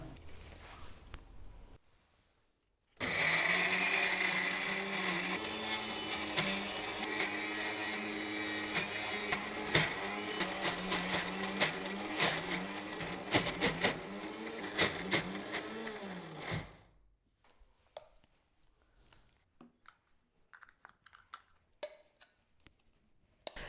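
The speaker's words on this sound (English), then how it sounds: "Now let's blend it down." A countertop blender whirs loudly for about fourteen seconds, grinding a falafel mixture with coriander and salt, then stops, leaving light clicks and tapping in a kitchen.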